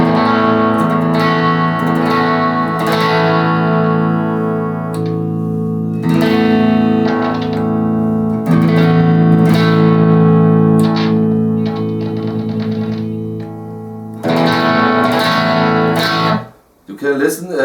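Electric guitar from a Solar Guitars X2.6C unboxing, played through a Blackstar M3 amplifier: sustained distorted chords and riffs ring out with short gaps between phrases, then cut off near the end.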